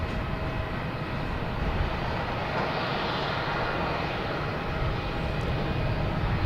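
An aircraft at Boston Logan airport gives a steady, broad engine roar, a continuous rumbling drone with an even level throughout and no talk over it.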